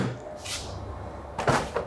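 A car door swings open in a garage and bumps a foam swim noodle mounted on the pegboard wall, making a soft muffled knock followed by a second light thud, close by and without talk.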